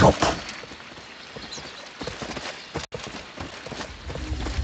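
Quick clip-clop hoofbeats from Chaos Knight's horse gallop along in Dota 2, a busy rhythmic patter set against game sound effects, with a voice talking faintly underneath.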